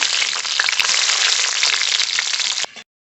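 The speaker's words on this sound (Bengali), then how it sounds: "রসুনগুলো একটু ভাজা ভাজা করে নিয়েছি।" Whole garlic cloves sizzle in hot mustard oil with black cumin in a kadai, a bright, continuous crackling fry with scattered pops that cuts off abruptly near the end.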